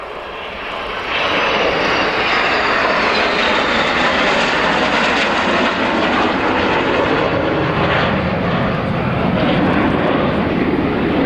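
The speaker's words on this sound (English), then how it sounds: "The pair of Rafales with the hooks down." A pair of French Navy Rafale jets passes at an airshow with tailhooks lowered, a loud, sustained broadband roar that swells within the first second and holds steady throughout, close and overpowering.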